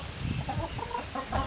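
Egg-laying hens cluck softly and repeatedly at close range, with a few short pitched calls over a steady low background, no talk.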